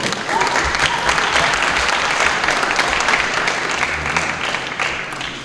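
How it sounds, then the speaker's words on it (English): A round of applause at the STUEYS student award ceremony, a loud full crowd clapping steadily for several seconds before slowly tapering off. "One more round of applause."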